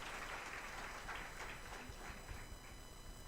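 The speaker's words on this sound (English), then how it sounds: "can we clap for ourselves?" Audience at a Garissa High School association launch applauding together: steady, dense clapping from many hands at a moderate distance, sustained throughout without any talk.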